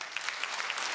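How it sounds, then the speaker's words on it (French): A comedy show audience breaks into steady, dense applause, a brief close burst of many hands clapping with no voices. "Applaudissements, par applaudissements, les gens qui se considèrent écologistes ici"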